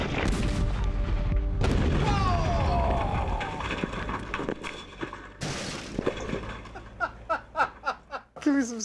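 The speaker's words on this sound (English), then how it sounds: "when the hot water heater finally blows, we're staring right at it" A hot water heater blows up in a huge, deep, guttural boom with a long rumbling tail, followed by cheering, laughter and excited voices close by.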